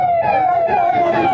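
Fire and emergency service vehicles arrive at a burning house with a loud, continuous wailing siren over rumbling road traffic.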